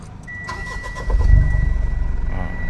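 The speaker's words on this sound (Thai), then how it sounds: "เดี๋ยวเราจะติดเครื่องดูนะครับ" A car engine cranks and catches, settling into a steady low rumble at close range, heard in a car fitted with a wireless electrical monitoring device.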